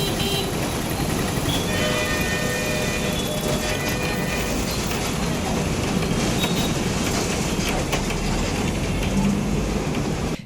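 A train rumbles across the road-cum-rail bridge at Rajahmundry, heard from a bus on the road deck: a loud continuous clatter of wheels and cars with metallic squeals and rattles throughout.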